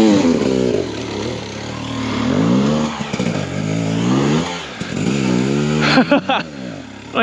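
A 2023 Husqvarna TE300i two-stroke dirt bike engine revs up and down continuously on a muddy trail, close and loud, with rising and falling pitch as the throttle opens and closes.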